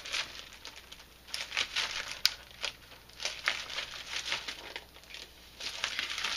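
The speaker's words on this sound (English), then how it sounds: "let's kind of rip it open right there." Packaging of a boxed WWE CM Punk plaque being ripped open from the back gives faint, close crinkling and tearing rustles in irregular bursts, heard alone.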